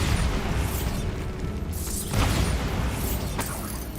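Bombarda spell blasts in a Harry Potter video game: booming magical explosions and crackling bursts over a steady rumbling background.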